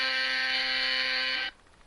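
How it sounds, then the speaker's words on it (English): A loud, steady electronic alarm tone sounds on its own, holding one pitch for about a second and a half before cutting off abruptly. "if you guys hear this alarm,"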